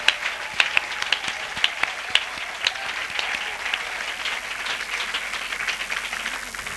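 Applause from a large church congregation, with a few sharp, louder claps standing out early before settling into a steady, even wash of clapping.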